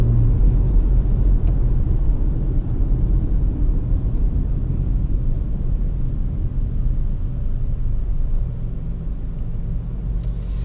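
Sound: 2019 Toyota RAV4 XLE AWD accelerating from a stop

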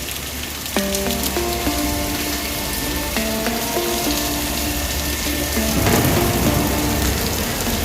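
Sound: light drizzling rain

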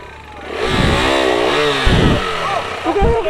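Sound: motorcycle engine revving as the bike skids

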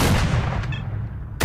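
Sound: shotgun firing in the video game STALKER

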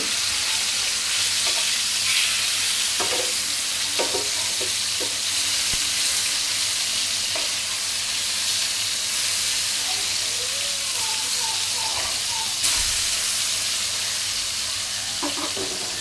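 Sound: tilapia fish frying in oil in a pan

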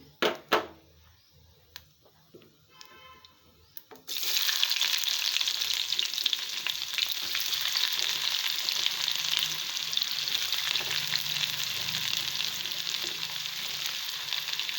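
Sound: onions frying for fish curry

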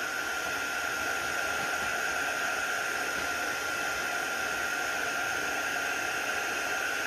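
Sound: heat tool melting clear embossing powder on a stamped card

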